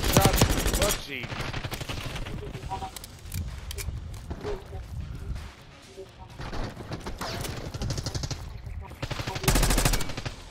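Rapid automatic gunfire in Black Ops 6 multiplayer, loud bursts at the start and end with game effects and a player talking in between.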